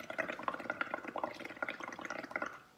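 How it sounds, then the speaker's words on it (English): Air blown through a straw into a cup of liquid makes bursts of bubbling and gurgling in an uneven rhythm, close and fairly quiet, before fading out at the end. "So we are gonna blow some bubbles, and this makes a fun sound."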